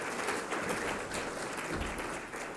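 Audience at a corporate HR awards gala applauding and cheering for Zachary, a steady dense wash of clapping and crowd noise throughout, fairly loud and without speech.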